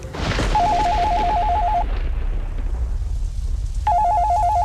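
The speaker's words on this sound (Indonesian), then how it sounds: "telepon itu berdering kembali." An electronic telephone ringtone sounds in two clear bursts separated by a pause of about two seconds, loud over a low rumbling background.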